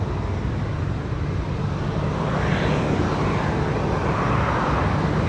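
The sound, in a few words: Air India heavy jet departing Sydney Airport at night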